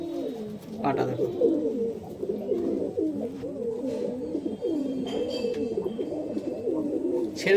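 Kalpetia pigeons at a Nabadwip pigeon market coo continuously in low, throbbing rolls, several birds overlapping near at hand, with occasional faint knocks and rustling in the background.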